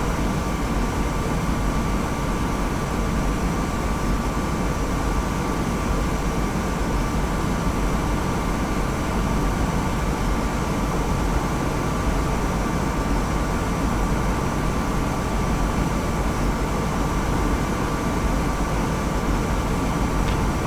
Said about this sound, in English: the left engine.